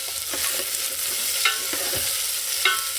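Onions frying in a pan give a constant close sizzle, broken by a few scraping strokes of the stirring spoon, with no one talking.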